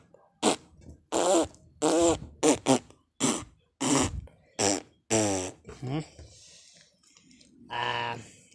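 Around ten short fart noises come in a rapid, irregular series, loud and close, with brief silences between them and a longer, softer one at the end.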